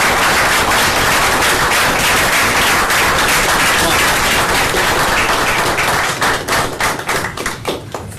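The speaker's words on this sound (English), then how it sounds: "give Pat a round of applause" A town council meeting audience applauds with dense, loud, sustained clapping that fills the room, then thins into scattered claps and trails off near the end.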